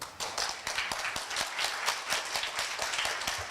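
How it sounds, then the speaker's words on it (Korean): A university event audience applauds to welcome a foundation chairman, many hands clapping in a fast, even patter that carries on steadily throughout. "박수로 환영해 주십시오."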